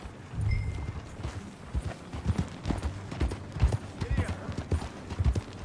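Steady clip-clop of horse hooves at a trotting rhythm in Red Dead Redemption 2, fairly close, with a voice speaking briefly over it.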